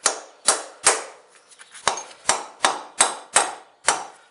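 A chisel is tapped with a hammer to separate a failed aluminum viscous coupling from a 2002-2010 Ford Mountaineer AWD. Sharp, close metallic clinks come in a fairly even rhythm, about ten strikes, each ringing briefly before the next.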